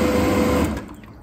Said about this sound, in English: There's the piston pump.